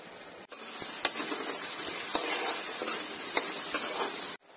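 Potatoes frying in a pan with crushed spices and salt for salted rice, a steady close sizzle throughout with a few clicks of a stirring spoon against the pan.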